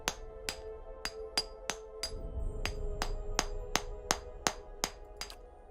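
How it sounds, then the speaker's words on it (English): A hammer strikes a chisel against ancient masonry in Pillars of Eternity, a dozen sharp metallic blows at a steady rhythm over a low humming drone and a rising rumble of crumbling stone. "Let's use a hammer and chisel."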